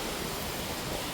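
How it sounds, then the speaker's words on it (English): Outdoor wind buffets the microphone in a constant broadband rumble and roar, loud and close, with no other sound through the short stretch. "Sorry about the wind."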